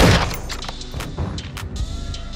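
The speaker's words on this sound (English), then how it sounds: "our teammate's using a shotgun" Shotgun fire in the video game Call of Duty: Modern Warfare 2, a heavy blast at the start followed by several sharper, fainter shots and thuds scattered across the moment.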